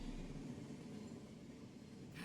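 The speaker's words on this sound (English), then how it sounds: "That's the last train of the day." A train rumbles steadily through a station in the horror game After Last Train, a continuous low rolling drone with no talk over it.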